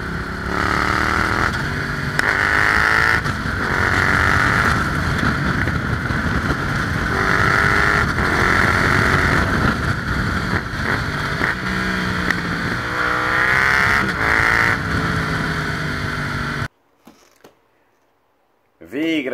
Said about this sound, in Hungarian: nagyon kellemes, durozsoló, kipufogó hangot hallasz, azt mindjárt megmutatom majd